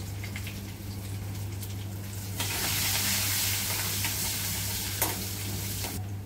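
Curry leaves and red chillies with chopped garlic sizzle in hot oil for a tempering, a soft steady crackle that swells louder partway through with occasional spoon stirring, quiet and close.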